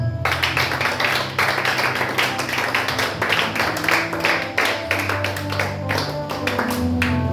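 A church congregation applauds, with dense, sustained clapping over a worship setting, while music tones and a voice carry underneath.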